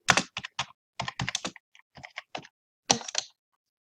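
Typing on a computer keyboard, close and clear, in quick bursts of keystrokes separated by short pauses, with no voices.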